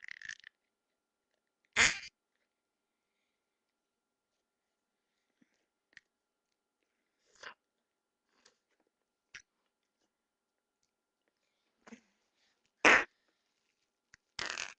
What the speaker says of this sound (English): You shouldn't make fart sounds with the stupid fart.